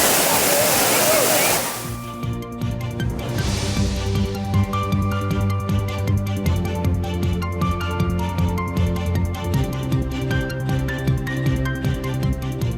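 A loud, dense roar of water crashing down at Thirparappu falls in Kanyakumari lasts for about two seconds, then gives way to music that plays over the rest of the clip.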